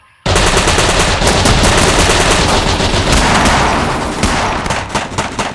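Gunfire in a firefight, with sustained machine-gun bursts and overlapping rifle shots forming a loud, dense, continuous rattle that starts abruptly and tapers slightly at the end.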